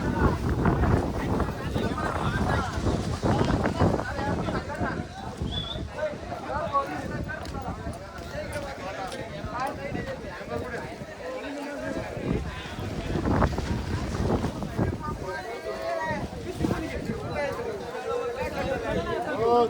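Strong gusting wind buffets the microphone with a steady roar, likely mixed with rain, on a hillside trek at Raigad Fort, while people talk and call out over it throughout.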